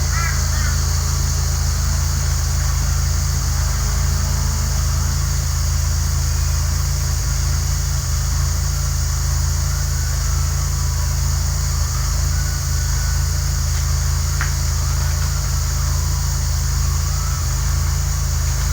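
A vintage lawn mower engine runs continuously up close, a loud steady droning putter with a harsh buzzing edge and no clear change in speed, with no voices over it.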